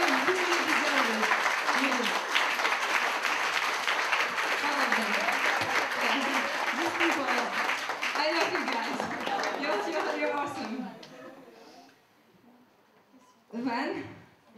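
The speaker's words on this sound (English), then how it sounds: "give them a big round of applause" An audience at a charity raffle and auction event in Paris gives a sustained round of applause, dense clapping with some cheering from the crowd, fading out before a brief final burst of claps.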